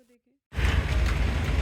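Steady rain falls in a dense, continuous hiss that starts suddenly after a brief quiet voice and carries on loud and even.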